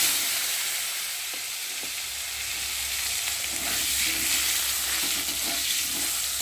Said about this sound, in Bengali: দেখো আলুগুলো বেশ লাল লাল করে ভেজে নিয়েছি